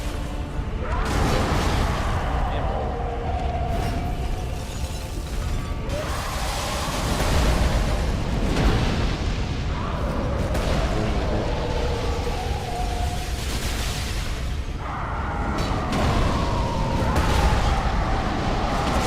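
Explosions boom and crash during a boss fight in the video game Dark Souls III, with repeated heavy blasts and dense rumbling battle noise, loud and continuous throughout the stretch.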